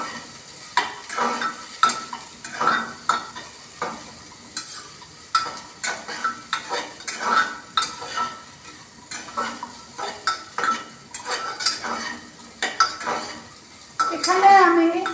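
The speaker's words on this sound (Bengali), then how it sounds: "পেঁপেটা দেওয়ার পর আবার একবার আমি এটা একটু দু তিনবার নাড়াচাড়া করব।" Papaya curry stirred in a pan over sizzling oil, with a spatula scraping and clinking in steady repeated strokes over a continuous close frying hiss and no talking.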